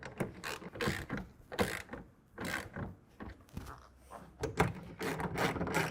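Ratchet or wrench cranking down a tonneau cover clamp on a 2024 Toyota Tacoma truck bed, a series of quick close mechanical clicks in short bursts with brief pauses between strokes.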